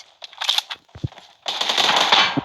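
Automatic gunfire in PUBG Mobile: two short bursts of rapid shots, then a sustained loud stream of firing through the second half, with no talk over it.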